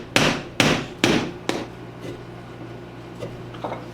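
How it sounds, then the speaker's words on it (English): Chisel work clearing waste from the corners of a 3/8 inch square mortise in wood: four sharp, evenly spaced mallet-struck taps in quick succession, then a few fainter knocks, close and alone. "That makes it a whole lot easier to use a chisel to get rid of the extra waste and make the corners square."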